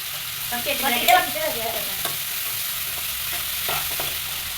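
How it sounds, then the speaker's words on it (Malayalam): Ground coconut mixture being stirred in a pan, then curry leaves dropped into the hot fat for jackfruit thoran, giving a close sizzling crackle with scraping stirs and a sharper spit of frying. "നന്നായിട്ട് ഇളക്കി കൊടുക്കാം. ഇനി നമുക്ക് വേപ്പിൻ്റെ ഇല ഇട്ട് കൊടുക്കാം."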